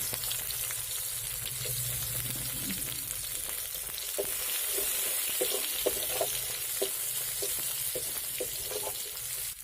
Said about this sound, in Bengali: তো এবার এর মধ্যে দিয়ে দিচ্ছি অর্ধেকটা ক্যাপসিকাম কুচি